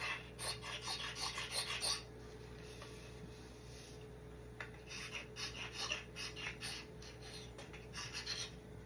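A steel scraper drawn along a wooden axe handle, giving repeated faint, raspy strokes in short bursts with pauses between passes, heard up close over a steady background hum.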